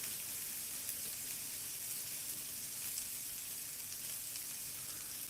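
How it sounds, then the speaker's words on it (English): Onions sizzle in a frying pan, a steady, faint hiss that runs unbroken throughout with no talking. "onions got a good sizzle going though."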